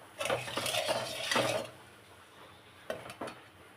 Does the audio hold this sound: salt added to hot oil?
yes